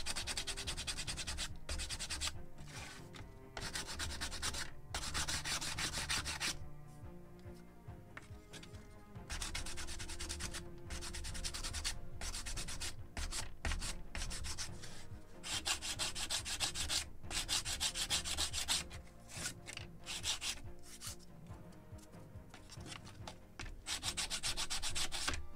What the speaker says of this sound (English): A little more sanding on this side.